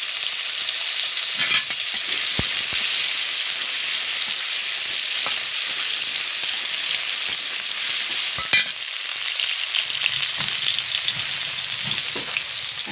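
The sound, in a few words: frying small potato pieces in pan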